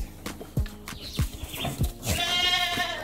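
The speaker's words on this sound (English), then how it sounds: "So we have some goats here." Goats at a goat house in the mountains, with several bleats and a longer wavering cry over rustling and hoof sounds, fairly close and moderately loud.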